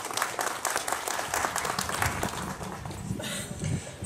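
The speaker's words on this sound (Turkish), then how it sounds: "Kendilerine ve Yazıcı ailesine kocaman bir alkış istiyorum sizlerden" Crowd applauding at a shop opening ceremony, a dense, lively patter of many hands clapping continuously, fairly close and loud, with faint murmuring voices mixed in.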